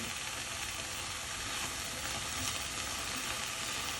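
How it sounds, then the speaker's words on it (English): Onion, celery, leeks and carrots saute in a pan, giving a steady, even sizzle and crackle that stays close and unbroken with no talk over it. "the onion and celery are sauteing"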